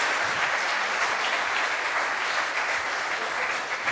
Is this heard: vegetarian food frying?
no